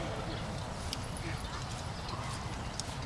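Cavalry horses handled by Michigan Cavalry Brigade reenactors at Greenfield Village, hooves clip-clopping in a quick, busy rhythm close by, with murmuring voices and outdoor bustle underneath.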